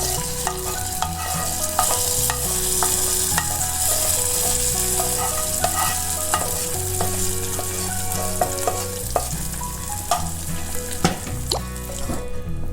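Cooked ven pongal, made with moong dal, is poured into an asafoetida tempering and stirred, giving close, continuous scraping and soft sizzling with a few sharper clinks.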